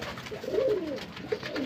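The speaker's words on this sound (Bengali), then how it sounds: "আর এই যে নর পায়রা," A male pigeon cooing close by, a soft rolling low coo swelling and fading over about a second, followed by a brief second note.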